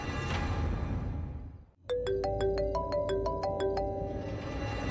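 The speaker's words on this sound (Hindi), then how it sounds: "राजवीर, तुम गाड़ी चला रहे हो, फोन मत उठाओ। अब वो माँ का फोन है" A mobile phone ringtone chimes inside a moving car, a clear repeating melodic tone pattern that starts abruptly after a hush and rings on against the low rumble of the road.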